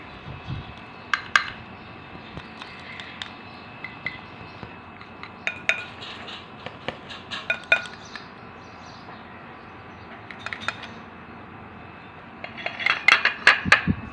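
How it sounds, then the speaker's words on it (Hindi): Channa chaat being served into a bowl, with light clinks and taps of a spoon against dishes scattered throughout, growing busier toward the end; no one speaks. "अचो त हिनखे असां प्याले में कढी वठूं"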